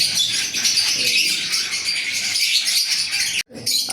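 Many lovebirds at a lovebird farm chirp and chatter continuously in a dense, high-pitched twittering chorus, loud and close, with brief rustling.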